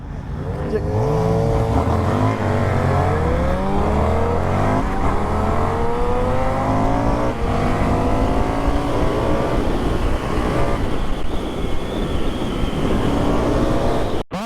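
Indian FTR 1200 motorcycle accelerating hard, its engine note climbing through rising revs and gear changes in a continuous loud roar with wind noise, heard from the rider's position.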